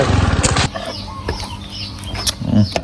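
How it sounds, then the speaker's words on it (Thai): A freshly caught chicken clucks and squawks in a rural Thai village setting, with a burst of loud wing flapping at the start and more agitated fluttering near the end, close and fairly loud. "ไก่ได้แล้วครับ"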